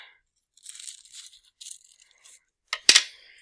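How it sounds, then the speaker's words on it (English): Colored paper being cut into small pieces for a sun mosaic, heard as several soft, close snipping and rustling bursts followed by two sharper, louder crunching cuts near the end. "So I'm going to cut this one into pieces too."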